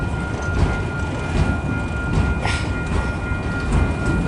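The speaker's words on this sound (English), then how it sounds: "This train is now a snail." A slow freight train hauling autoracks and hoppers rolls past close by, a steady, continuous rumble of wheels and cars with faint metallic tones above it.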